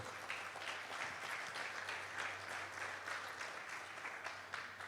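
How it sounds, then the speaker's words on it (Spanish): A church congregation applauding during a sermon on generosity, steady diffuse clapping throughout at a fairly faint, distant level. "dale un aplauso al Rey."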